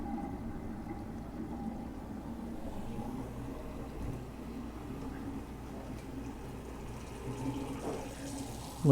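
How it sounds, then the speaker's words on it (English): Water runs steadily from a Moen bathroom faucet into a sink and down its drain, making a soft, even rushing that lasts throughout with no speech. "Looks like it drains even when the faucet's running"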